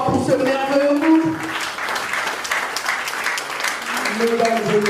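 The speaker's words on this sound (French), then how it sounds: "Est-ce qu'on peut applaudir très fort pour ce merveilleux groupe?" An audience applauds a music group at a civil wedding ceremony at the Moungali town hall in Brazzaville. The clapping swells to a steady, fairly loud patter mid-clip, with a voice audible at the edges.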